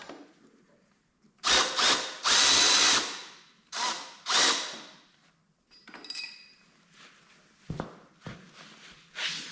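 A swivel-head ratchet wrench works a bolt on a Kohler K Series engine from a Cub Cadet 102 tractor, giving several close bursts of rapid clicking separated by short pauses, with faint metal knocks afterward.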